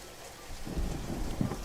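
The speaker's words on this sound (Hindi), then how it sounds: "बाहर पानी जोरों से गिर रहा था।" Heavy rain pours down at night in a rainy-season storm, a dense steady rushing hiss that grows louder after a quieter start, with a low thundery rumble underneath and no voices.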